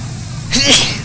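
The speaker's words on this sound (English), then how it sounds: "Gonna be sneezing again." A single sharp human sneeze bursts out close and loud over a low background hum.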